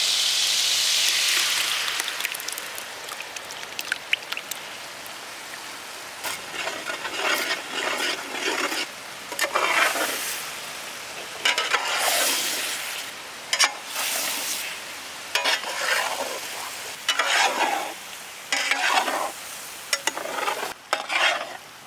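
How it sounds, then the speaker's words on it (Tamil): Egg poured into the middle of a pan of fried chicken for chicken egg podimas, crackling and sizzling with frequent stirring scrapes and clatters, close up, no talking. "அப்படியே நடுவில் நம்ம முட்டையை ஊற்றணும்"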